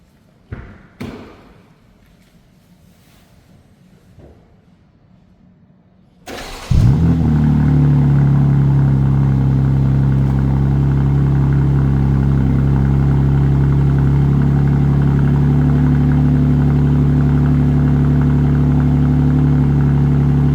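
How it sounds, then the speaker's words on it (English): After a few quiet thumps and clicks, a 2025 BMW M2 engine cranks and fires on a cold start, then holds a loud, steady high idle with a deep, throbbing rumble. "I just want to do a little cold start."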